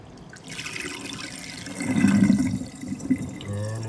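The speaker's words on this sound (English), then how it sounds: "it's draining pretty good" Kitchen sink in a condominium draining freely after being unclogged while the hot tap runs, a continuous watery rush that swells into a gurgling surge midway before settling back to steady flow.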